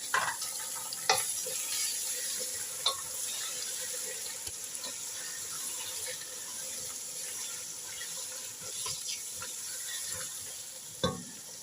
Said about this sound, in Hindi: वो सारी चिकन हम शामिल कर देंगे और कलर चेंज होने तक हम फ्राई करेंगे